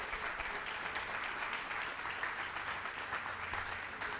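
An audience at a book talk claps to welcome the author, a steady, even wash of applause that stays fairly quiet and distant throughout.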